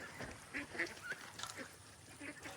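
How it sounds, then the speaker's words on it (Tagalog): Ducks on a farm feeding, with quacking and honking calls scattered throughout over a busy outdoor background, fairly close and steady. "Malakas nang kumain ang mga itik."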